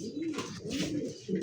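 Blue bar racer pigeon cooing close by in a few soft, rolling low coos, with faint background noise and no talk.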